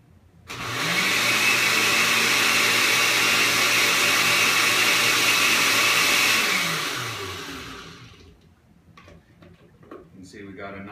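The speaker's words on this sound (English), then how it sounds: "And we'll just blend for a few seconds." An electric blender whirs loudly while blending coffee, starting abruptly, holding a steady high whine for about six seconds, then spinning down, followed by quiet talk.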